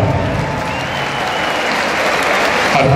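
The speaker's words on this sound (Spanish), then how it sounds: "brindémosles un fuerte y caluroso aplauso" Loud, dense audience applause fills the hall after a marimba ensemble concert in San Lucas Sacatepéquez, a steady roar of many hands clapping with a slight swell near the end.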